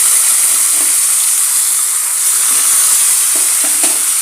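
Raisins fry in hot fat, likely ghee, in a pan after nuts have turned golden brown for ragi laddu, giving a loud, continuous sizzle with a few soft stirring clicks and no talking.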